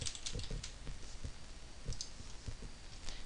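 Fingers tap out a steady run of close, quiet keystrokes on a computer keyboard, with no voice present.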